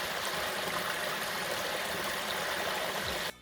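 Water from a stream at the spring of the Largue river rushes in a steady, close, even wash, cutting off abruptly at the very end.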